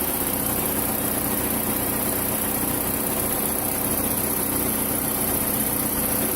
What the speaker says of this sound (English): I'll be letting this thing run for a little bit, getting up the temperature, and adding coolant as required.